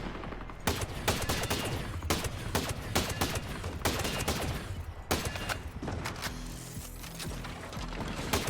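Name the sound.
LMG gunfire in Ghost Recon Breakpoint video game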